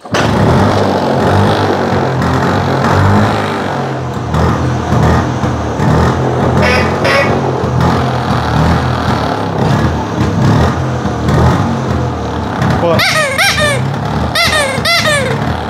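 A vintage Bajaj scooter engine starts and runs, its loud throbbing idle rising into revs, with a brief squeaky burst of laughter or chatter over the engine near the end.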